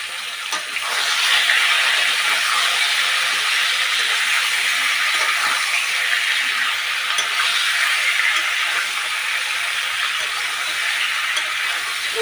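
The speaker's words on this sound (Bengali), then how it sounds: "এইভাবে আনাজগুলোকে ভালো করে ভেজে নিতে হবে" Vegetables fry in a pan with salt, producing a steady, loud hissing sizzle that holds evenly throughout with faint scraping underneath.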